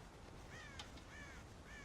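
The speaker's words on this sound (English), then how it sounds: "God damn crows!" Crows caw in a Red Dead Redemption farm scene by a corn silo, several rough, rising calls spaced a moment apart and heard at a moderate distance over soft ambient background.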